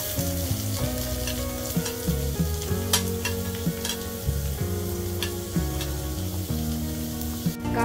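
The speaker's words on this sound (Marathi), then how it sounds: "बारीक चिरलेला कांदा टाकून घेऊया" Finely chopped onion frying in hot oil with red chillies for dal tadka, a loud, close, continuous sizzle with intermittent stirring scrapes, while steady music plays underneath.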